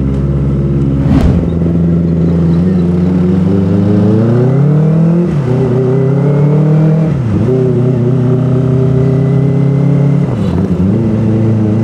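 Kawasaki ZX-25R motorcycle ridden on a busy daily road with a quick shifter, its high-revving engine loud and close, pitch climbing through the gears with brief dips at each shift.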